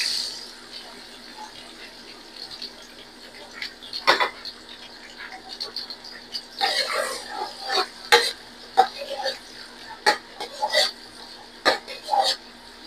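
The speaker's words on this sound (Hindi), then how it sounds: "ऑयल हमारा गर्म हो चुका। अभी ऐड करेंगे प्याज।" Three thinly sliced onions go into hot oil for a Pakistani-style chicken karela, starting after a quiet stretch: a crackling, spitting sizzle with scattered utensil clatters, close and moderately loud, with no talking.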